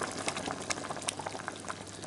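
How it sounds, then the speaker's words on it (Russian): Boiling water bubbles and sloshes continuously as it is poured into a pot, a steady pouring sound close by, with no talking. "Так, мне нужно добавить сюда кипятка."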